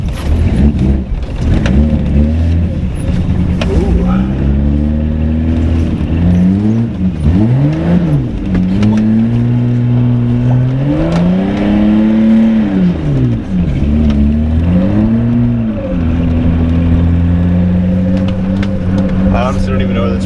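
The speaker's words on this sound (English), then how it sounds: "The clutch on this is pretty shot, but we'll see what we can do." A car with a badly worn clutch and a misfiring engine revs loudly and close up, its pitch climbing and falling in repeated surges over a steady droning base.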